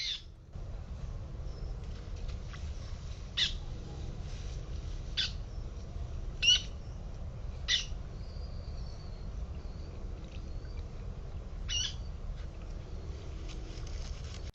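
Sharp, brief bird calls, probably a Virginia rail, ring out several times at irregular intervals over a steady low rumble of water and ambient noise in a marsh.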